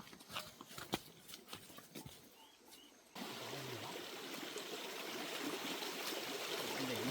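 A stream flows by its bank, first faint with scattered taps and clicks, then abruptly a steady loud rushing wash of water that fills the rest, no talk.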